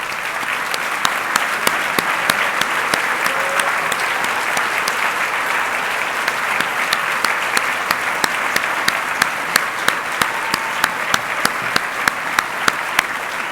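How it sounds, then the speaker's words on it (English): A large gala audience applauds professors from a research center, dense steady clapping with sharp individual claps rising through it, sustained and fairly loud with no talk over it. "Will the professors from the center please stand right now so we can give you a round of applause?"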